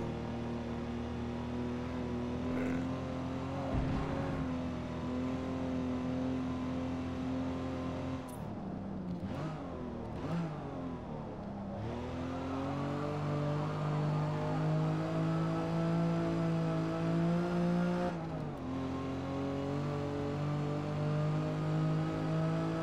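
An Aston Martin DB4 GT races on the Nürburgring, its engine droning steadily from inside the car with pitch rising and falling through gear changes, a brief dip around a shift, then a sustained higher roar.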